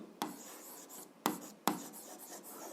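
Pen or pencil writing out an algebra equation on paper, a steady soft scratching rasp with three sharp taps as the tip strikes the page, close and quiet with no talking.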